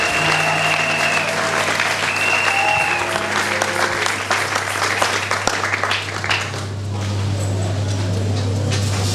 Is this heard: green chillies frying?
no